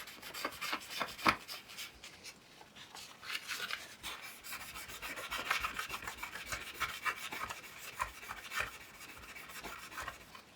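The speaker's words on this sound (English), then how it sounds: "So just rubbing this down to remove the original thermal paste." Old thermal paste is rubbed off a laptop heatsink in close, dry, rasping strokes that repeat steadily and quietly with no voices.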